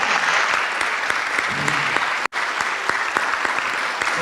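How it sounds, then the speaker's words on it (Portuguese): Audience applause fills a conference hall, a dense steady clatter of many hands clapping with a brief dropout in the middle, then continuing at the same level. "Uma salva de palmas, malta!"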